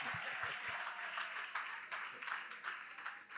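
A church congregation at a Sunday service applauds, with scattered hand claps forming a soft, continuous patter a little distance away. A few low thumps come early and faint voices sit underneath.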